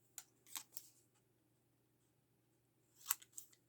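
Scissors snip through a paper tag for a layered flippy page insert, with a few quick, quiet, close-up cuts at the start and again near the end, separated by near silence.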